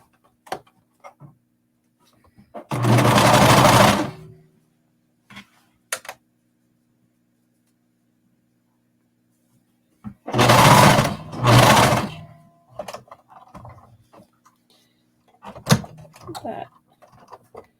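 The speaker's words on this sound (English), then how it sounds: "Or top stitch right on the edge, making sure that it's then enclosing that seam." Sewing machine top stitching along the edge of a sports bra to enclose the seam, heard as two short bursts of close whirring stitching separated by quiet gaps with scattered clicks and handling noises.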